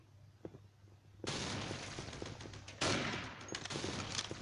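Grenade explosion and bursts of gunfire in the Special Force online shooter, a sudden loud boom with rapid shots continuing through the clip and a second heavy blast near the end.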